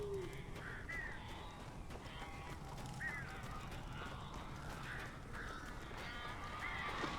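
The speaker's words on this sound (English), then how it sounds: "These birds are weird." Crows caw in the video game Alan Wake, a few separate harsh calls spread through a quiet, low ambient backdrop, moderately distant and faint.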